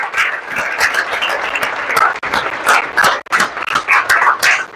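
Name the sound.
applause from audience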